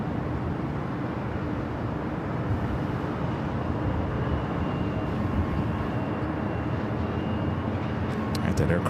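Steady, moderately distant jet engine roar from an aircraft taxiing at Los Angeles International Airport, a continuous broadband rumble and whine that holds level throughout.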